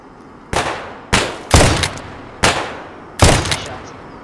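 Five loud gunshots in an online shooter game, spaced irregularly about half a second to a second apart, each a sharp crack with a short decaying tail.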